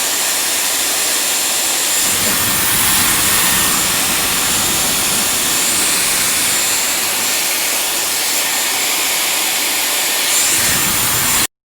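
A Dyson Airwrap hair styler runs steadily and loudly up close for about ten seconds, a continuous high airy whoosh of motor and blown air with no pause until it cuts off abruptly at the end.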